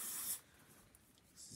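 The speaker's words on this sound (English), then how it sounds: "Use your cologne. Spray it on." A short hiss of cologne sprayed from a bottle, close and quiet, with a second faint spray burst at the end.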